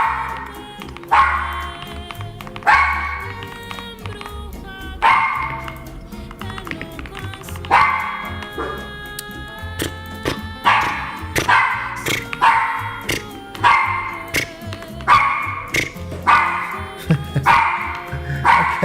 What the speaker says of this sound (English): Okay, Chili, we heard you the 10th time. There's no dogs on the dog cam